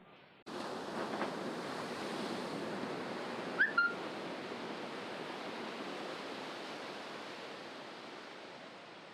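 Sea waves washing onto the beach at Varkala, Kerala in the morning, a steady broad roar of surf at moderate distance with light wind, continuous and unbroken, no voices.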